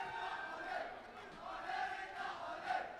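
A home crowd at a judo Grand Prix in Marrakech roars in a sustained wash of cheering, swelling in waves with a few shrill shouts rising above the din.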